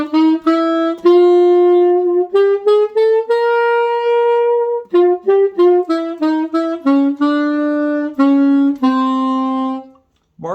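Saxophone playing a tune in a stiff, straight marching-band rhythm, loud and close, with clipped separate notes and short gaps between phrases, no talking.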